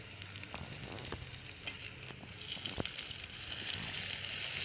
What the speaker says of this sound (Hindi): ये मैं ना टमाटर डाल रही हूँ बरीक बरीक काट के